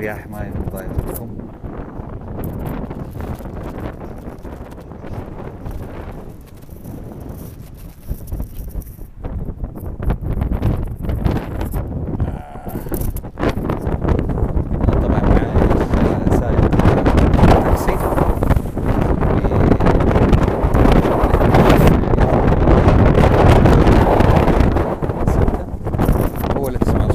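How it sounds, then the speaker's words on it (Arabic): Strong wind buffets the microphone in a continuous, loud roar on an outdoor lookout near the Strait of Gibraltar in Ceuta, growing heavier in the second half, with someone talking throughout. "الرياح ما يضايقكم."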